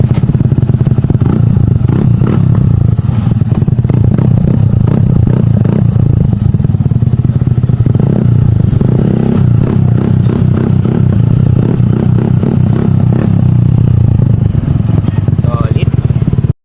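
A Suzuki Burgman scooter fitted with an Akrapovic M1 universal muffler idles loud and close, with throttle blips rising and falling throughout; someone talks over it.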